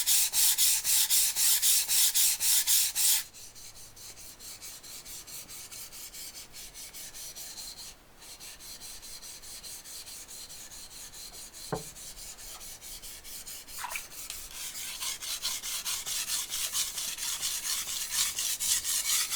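A knife is pushed back and forth across a sharpening stone in a long, steady rasping rub with brief breaks, fairly faint and close, with no talking.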